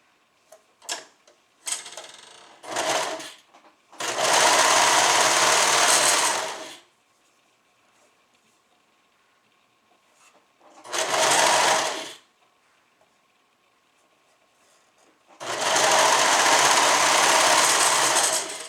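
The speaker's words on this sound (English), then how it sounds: "We're going to sew them together at the shoulders." Serger sewing machine stitching bodice shoulder seams, three loud sustained bursts of fast whirring stitching separated by quiet gaps and a few short handling clicks.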